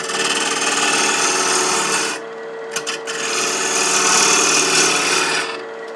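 Turning tool cutting a wooden box top on a lathe, a loud continuous rasping scrape with a steady tonal whine, easing off briefly mid-way with a couple of small knocks before the cut resumes.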